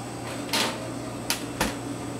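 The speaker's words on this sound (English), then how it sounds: "and we put them in the oven there" Baking tins for a Victoria cake set into a kitchen oven and its door shut, a few short close knocks and thuds over a steady appliance hum.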